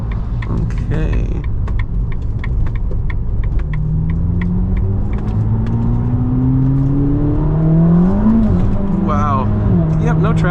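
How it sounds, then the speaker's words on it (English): A Ferrari SF90 accelerates hard with tires breaking loose, its engine note climbing steadily in pitch through quick gear changes, loud and close over a steady rumble, with people talking over it. "Yep, no traction."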